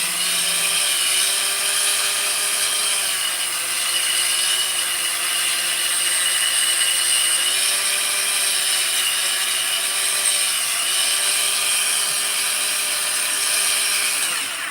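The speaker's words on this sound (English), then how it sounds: "Again, just a wire wheel on the Dremel." A wire wheel spins on a Dremel rotary tool, cleaning up parts for a 288XP chainsaw rebuild. It gives a steady, high-pitched whine with a slight waver in pitch and runs close and continuously without talk.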